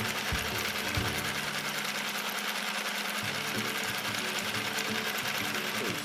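A Sew Cool toy sewing machine stitches fabric without thread, a fast steady mechanical chatter and hum running continuously with a slight dip in the low rumble midway.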